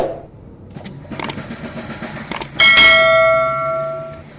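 A car engine cranks and catches, followed by a loud, sustained chiming tone as it starts. Soft rustling and thumps come before it.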